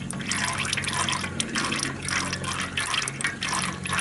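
Engine oil drains from the underside of a 2014 Toyota Camry SE, a close, steady pouring trickle with a bubbling, splashing texture that runs continuously into a catch pan.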